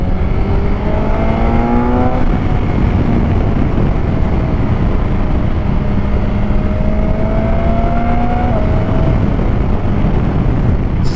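A 2021 BMW S1000XR motorcycle fitted with a Cobra Hypershots end can roars steadily at close range, its engine note climbing through the revs in rising pitch sweeps before settling, loud and continuous with no talking.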